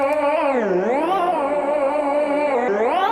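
A Komplete 14 Ignition Keys burned cassette preset holds a sustained, choir-like synth tone whose pitch wobbles and sags in slow, warped bends, with a worn tape-like character and no voices.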